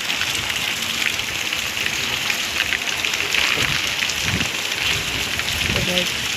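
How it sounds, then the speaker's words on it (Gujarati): Steady rain hissing on surfaces, a dense continuous patter with occasional louder drops, filling the whole scene at a consistent level. "હજી વરસાદ ચાલુ ચાલુ છે જો"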